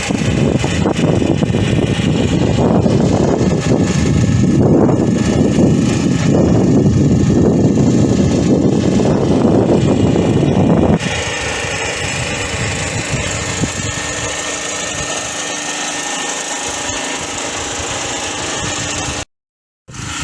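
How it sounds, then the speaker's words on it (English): A loud, steady engine drone like a running generator fills the first half, then drops to a quieter, more distant hum before cutting out briefly. "There's a bit of a noise from a generator"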